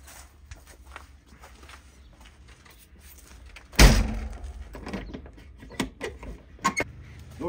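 A coach's luggage hold door swings open with one loud clunk midway, followed by scattered knocks and rattles of the hatch mechanism. Nobody speaks.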